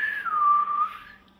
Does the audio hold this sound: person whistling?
yes